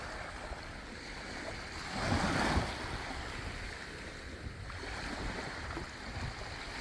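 Sea waves at Shikoku, Japan, washing in as a steady broadband surf wash with one fuller surge breaking nearby partway through, constant and close, no talking.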